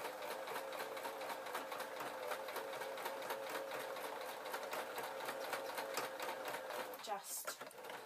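A sewing machine fitted with a quilting foot stitching fabric for a broom-to-mop cover, a rapid, even mechanical chatter that runs throughout and then ends in a short rustle.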